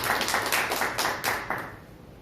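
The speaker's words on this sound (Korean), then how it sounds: "이겨내고 와서 고맙다고 박수" A church congregation applauds a family during a sermon, a short patter of claps at moderate distance that fades after about two seconds.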